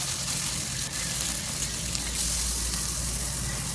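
Onions and green chillies frying in oil in a home kitchen, with fennel and cumin seeds, a steady broadband sizzle holding evenly throughout, close and moderately loud with no talking.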